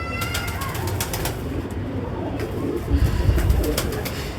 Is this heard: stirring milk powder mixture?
no